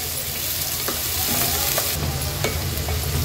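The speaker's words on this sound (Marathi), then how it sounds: "आता कांदा छान शिजवून घ्यायचा आहे। कांदा शिजवण्यासाठी गॅसची फ्लेम मी लो करते।" Finely chopped onions frying in oil with garlic in a pan over a low gas flame, a steady close sizzle and crackle with occasional scraping stirs, no voices.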